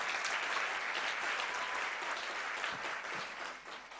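A large audience claps for a singer at a Sing for Joy event, a full, even roar of applause that eases slightly toward the end.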